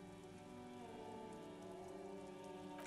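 Steady rain falls in the video game Disco Elysium, a dense, even patter of drops on hard surfaces that stays soft and constant with no voices over it.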